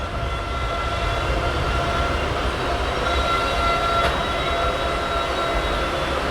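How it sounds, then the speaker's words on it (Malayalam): The Puducherry Express pulling out of Valliyoor station makes a continuous, close rolling rumble with steady wheel and carriage noise and no voices. "വള്ളിയൂർ സ്റ്റേഷനിൽ നിന്ന് ട്രെയിൻ പുറപ്പെട്ടു."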